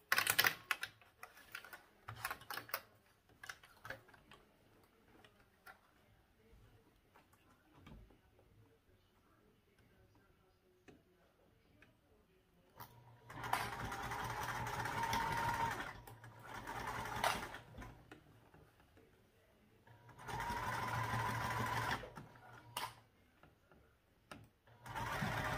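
A sewing machine bastes a zipper onto a backpack, running in two sustained loud bursts of rapid stitching separated by quieter stretches with faint handling noise and occasional talk.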